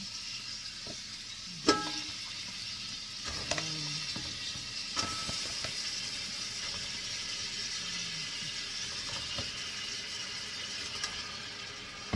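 Chicken frying in a pan gives a steady broadband sizzle throughout, with occasional clinks and scrapes of stirring on top, at moderate level and with no talk.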